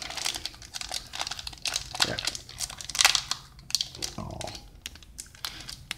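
Crinkling and tearing of a Yu-Gi-Oh! Shadow Specters card pack wrapper, close and fairly quiet, with repeated rustling bursts and a sharper tear near the middle, with no voice present.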